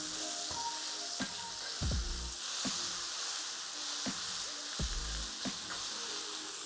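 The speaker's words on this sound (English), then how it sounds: "So now, with my spatula, I'm gonna smash them a little bit." Burger patties sizzle loudly in a pan while a spatula presses and scrapes them in repeated strokes, about one every second, over a constant crackling fry.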